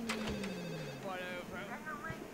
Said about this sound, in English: The phone? All right, I guess we can answer that.